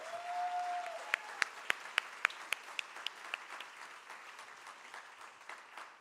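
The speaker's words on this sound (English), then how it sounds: "A huge applause to Srimati Guru Radhika for her unwavering dedication." Applause from an audience at a Kathak dance recital, a steady clapping crowd with a few sharp individual claps standing out early on, gradually thinning and fading toward the end.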